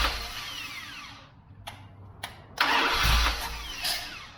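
A carbureted Dodge 318 V8 with a struggling choke, started for the first time in ten years: near, loud bursts of cranking, then the engine catches and runs roughly. No one speaks.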